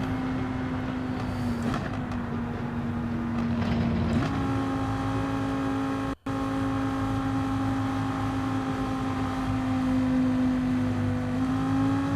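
The RX Vision car's engine in the racing game Gran Turismo 7 drones steadily and evenly. Its pitch shifts once partway through, then holds a constant hum, with no voices.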